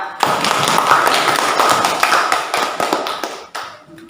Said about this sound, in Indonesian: Tepuk tangan untuk Reza.